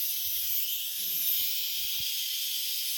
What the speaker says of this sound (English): we're releasing the steam